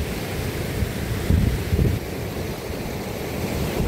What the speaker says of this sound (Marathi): जोरदार पाऊस सुरू झालेला आहे